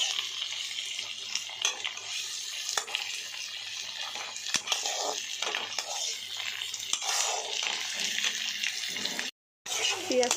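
Onions fry in a pan with a constant close sizzle, broken by scraping and stirring knocks against the metal, briefly cutting out near the end; a voice speaks intermittently underneath.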